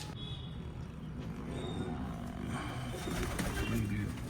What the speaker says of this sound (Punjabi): ਆਪਣੀ ਕਬੂਤਰੀ ਉੱਡੀ ਉਹ ਸੋਹਣੀ ਡਾਈ ਕਰੀ ਜਾਂਦੀ ਆ